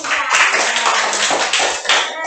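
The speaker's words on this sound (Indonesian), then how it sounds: "kasih tepuk tangan dulu" Participants at a classroom teaching session clap hands in a dense, lively burst of applause, close and loud, continuing for a couple of seconds.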